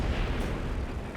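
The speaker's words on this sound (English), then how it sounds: "Pack trying to get barraged by the mortar half-track, but it's already moved off." Mortar rounds from a half-track thump down in a Company of Heroes 2 match, a dense muffled barrage of low booms and rumbling bursts, fairly quiet and with no voices over it.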